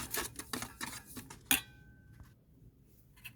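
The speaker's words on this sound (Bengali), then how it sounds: "দইটাকে ভালো করে ফেটাবো" Sour curd mixed with salt and sugar is whisked in a bowl, giving quick rhythmic clinks and scrapes of a utensil against the dish, close and fairly quiet, with one sharper tap partway through and no talking.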